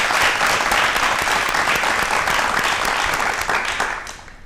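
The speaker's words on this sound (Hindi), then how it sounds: "सभी गुरुओं के लिए तालियां जोरदार होनी चाहिए" Loud, dense applause fills a studio audience at a televised talk show honouring teachers, then tapers off toward the end.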